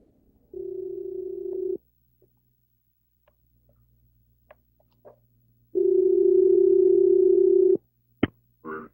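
A telephone dial tone hums steadily twice while a call is placed, separated by faint clicks and key taps, followed by a sharp click and short beep at the end.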